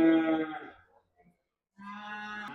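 Cattle at the Payakumbuh livestock market give two long, loud, close moos separated by a short silent pause.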